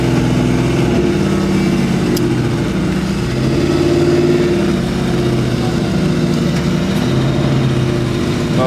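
An old Ford Mustang engine runs close by, a loud, continuous, throaty rumble with slight rising and falling revs and no break.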